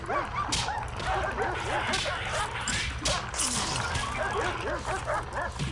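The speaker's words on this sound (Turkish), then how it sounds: "Çok fazla köpek var ya. Her yerden geliyorlar." Several dogs bark and yip in the prison management game Prison Architect during an escape mode, a busy overlapping chorus of sharp barks and whimpers coming from many directions, with a voice talking faintly underneath.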